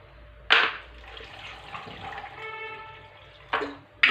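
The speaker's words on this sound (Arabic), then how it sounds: "وهنايا عندي ايطرو ديال الماء، غندير غير النص ديالو باش غنطحن هاد المكونات" Roughly half a liter of water is poured into a blender for orange and lemon juice, a short stream with a rising filling tone, bracketed by two brief clunks of the container.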